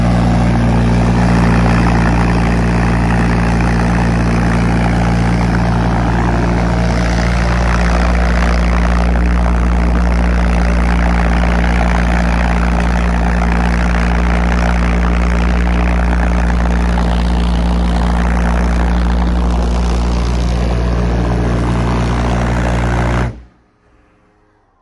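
A homemade ramjet engine fires in a live demonstration at an outdoor summer event, giving a loud, steady, low roaring drone that holds for about twenty-three seconds before cutting off abruptly into near silence.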